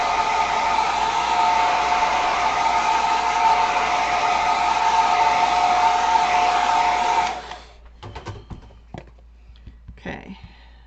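A hair dryer blows steadily and loudly to dry paint on a gelli print, running as one continuous whoosh for about seven seconds before it shuts off, followed by light handling sounds.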